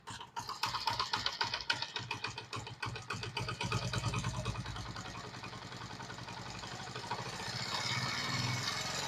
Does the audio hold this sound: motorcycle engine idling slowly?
yes